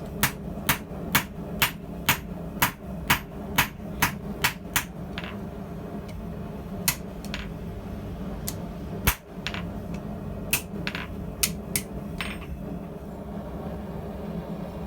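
A blacksmith hammers hot steel tongs on an anvil, sharp ringing metallic strikes in steady rhythmic bursts, loud and close, with a brief pause midway before irregular blows resume.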